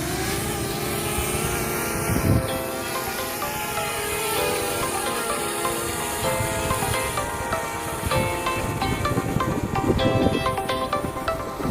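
Engine of a model aircraft called Bumble Bee droning steadily through take-off, a continuous buzzing whine with shifting pitch, moderately loud over wind and ground noise.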